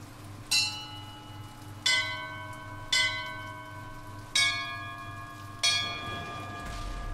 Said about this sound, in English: Huge bells.